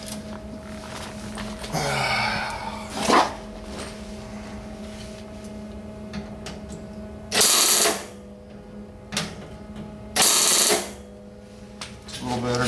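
A MIG welder, its heat and wire speed adjusted, lays short crackling, sizzling bursts of weld a few seconds apart over a low shop hum, with someone talking between them.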